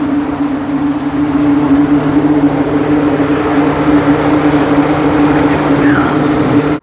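A passenger train in Kazakhstan rolls past close by with a loud, continuous rumble and steady tonal hum from the wheels, plus a brief higher squeal near the end.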